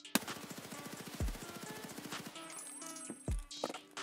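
Gunfire in Escape from Tarkov during a recoil test: a rapid automatic burst rattles for about two seconds, followed by shorter bursts and spent casings clinking, loud and close with no voices.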